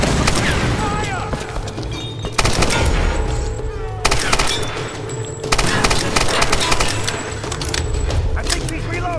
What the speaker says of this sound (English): Just machine gun!